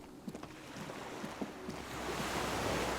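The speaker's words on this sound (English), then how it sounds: "The skiff is swaying on the waves by the dock." Water washes against a dock where a small skiff sways in the game Disco Elysium. Soft taps and creaks sit over a steady wind-like rush that swells louder toward the end.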